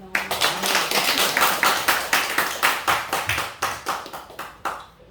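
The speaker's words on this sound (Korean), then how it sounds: "나와서 이제 박수." A church congregation claps together at a Sunday worship service, a steady run of dense, overlapping handclaps that loosens into uneven individual claps and fades out near the end, with no talking.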